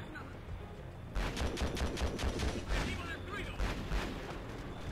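Gunfire crackles in the video game Conflict Desert Storm 2, a burst of rapid shots and volleys breaking out after a quiet second and continuing in dense, loud bursts.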